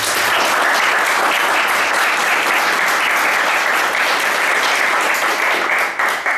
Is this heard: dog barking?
no